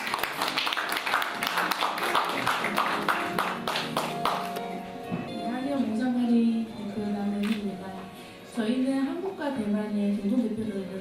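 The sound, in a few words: audience applause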